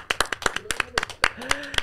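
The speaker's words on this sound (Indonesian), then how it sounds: "boleh dong tepuk tangan buat diri kita sendiri dan buat Bang Alvin." Audience applause at a talk-show style event, a brief patter of claps mixed under ongoing speech, moderately loud and close.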